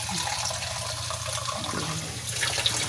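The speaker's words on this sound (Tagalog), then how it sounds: "Tapos, lalagyan natin ng tubig." Water runs steadily into a cooking pot while pancit is being made at home, a continuous close splashing flow with no talking.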